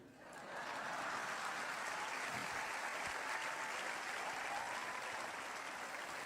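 A church congregation claps in a steady, dense wash of applause that swells in after a brief quiet start and holds evenly throughout, sounding full and somewhat distant in a large hall, with no voices over it.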